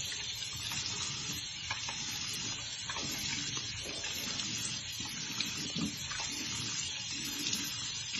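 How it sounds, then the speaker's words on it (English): Running water from a tap splashing steadily as skincare product is rinsed off at a sink, a continuous close hiss with small splashy variations and no talking. "So I'm going to go ahead and rinse this off."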